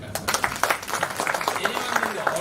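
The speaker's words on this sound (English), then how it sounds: "Let's clap for her." An audience at a business school talk claps for a speaker, a brief scatter of hand claps that starts to settle into a loose rhythm, heard under and around background voices.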